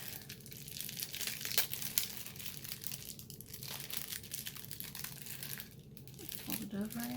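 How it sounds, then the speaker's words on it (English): A plastic bag holding art pencils is handled and pulled at, giving repeated crinkling and crackling bursts at close range, with talking mixed in. "Watch now as I am defeated by the plastic bag."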